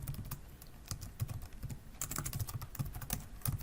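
Steady typing on a computer keyboard, entering basic HTML tags such as a doctype, html and head tag, with rapid irregular key clicks running throughout, close and alone with no talk.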